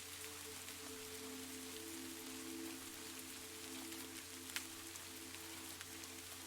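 Soft, steady rain pattering on a window pane, a continuous even hiss with occasional slightly louder drops, heard alone without any voices.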